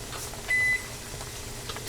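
A single short electronic beep from a kitchen timer while canning cranberry sauce, thin and high, over a steady low room hum.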